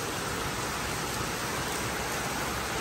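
Steady rainfall hisses evenly throughout, a dense and constant wash of falling water with no voices and no distinct drops or thunder.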